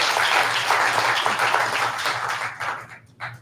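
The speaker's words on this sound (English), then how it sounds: "Now you can applaud if you like." Audience applause at a live newscast show in Salt Lake City, steady dense clapping from a crowd that thins and fades out near the end.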